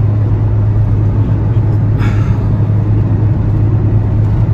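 A Fiat Uno 1.4 running on ethanol cruises along a road, heard from inside the cabin as a steady loud engine drone with deep road rumble and a brief hiss midway.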